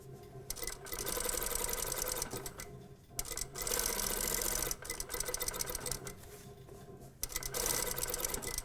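A sewing machine runs an understitch along a seam allowance and facing on a box-top toile, with several sustained stretches of fast, even stitching broken by short pauses, close-up and steady.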